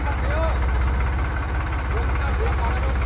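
A tractor engine running steadily with a continuous low throbbing idle and vibration, loud and close throughout, with no pauses.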